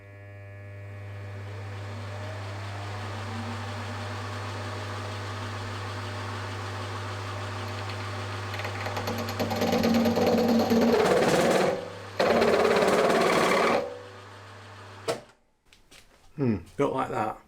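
A milling machine cutting with a 1-inch cutter held in an ER40 collet chuck, a steady motor hum that grows louder into harsh cutting bursts before stopping, close by, while someone talks.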